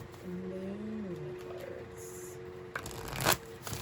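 Moonology oracle cards are shuffled in a brief riffle and flutter toward the end, nearby, over a quiet background with faint tones.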